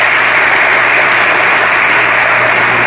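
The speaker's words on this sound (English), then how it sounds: "Let's give her a round of applause." Audience applause at the Charles Young Buffalo Soldiers National Monument ceremony, a dense, steady wash of clapping from a crowd, loud and continuous with no speech over it.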